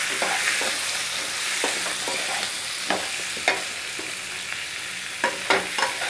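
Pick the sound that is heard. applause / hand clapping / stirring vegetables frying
stirring vegetables frying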